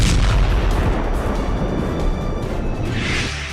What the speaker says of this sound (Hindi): यूक्रेन ने रूस के नेवल बेस पर हमले के लिए स्टॉर्म शैडो मिसाइलों का इस्तेमाल किया है